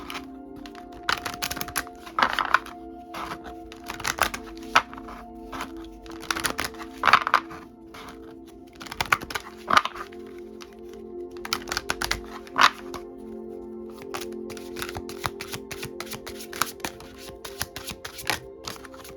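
An African Goddess Oracle card deck is shuffled by hand in repeated bursts of riffling, soft rapid card clicks and slaps. The bursts sound close and fairly quiet and continue for about twenty seconds with no talk.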